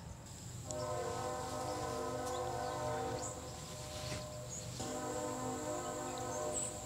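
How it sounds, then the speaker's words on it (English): A slow-moving train rolls past at a distance, its horn sounding in two long chord blasts over a steady low rumble, with faint insects in the background. "Literally, as soon as I got out here, the train started coming."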